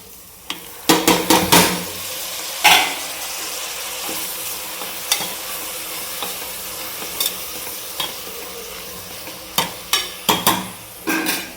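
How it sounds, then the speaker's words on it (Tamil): A spoon scrapes and clatters against a pan in irregular bursts, stirring spice powder and tomatoes over a steady low sizzle of frying, close by, with no talking. "பொடி போட்டு ஒரு கிளறு கிளறி விட்டுங்க"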